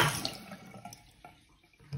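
Water runs from a tap being turned on to heat up, heard faintly and close with splashing and dripping tones, broken by a few small knocks and handling noises.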